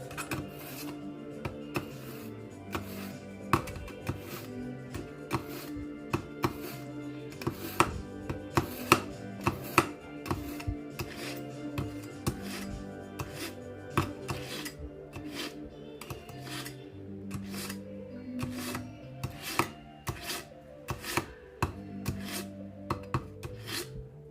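Knife chopping garlic on a board for a prawn curry, a long run of quick irregular knock-like chops, close but fairly soft, over a faint music bed.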